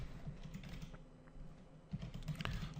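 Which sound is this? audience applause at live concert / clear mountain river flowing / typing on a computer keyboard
typing on a computer keyboard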